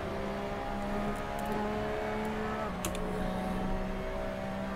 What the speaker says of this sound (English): you can actually get on the throttle really early with this car